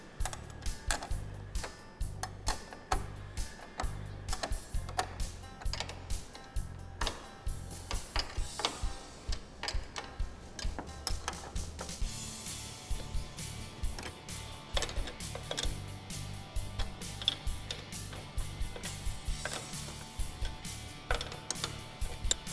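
Windshield strut nuts being tightened on a Polaris RZR Pro R, heard as rapid repeated mechanical clicking and ratcheting, close and fairly loud, running steadily with brief pauses and no talking.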